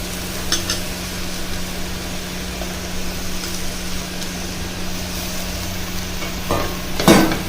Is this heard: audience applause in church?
no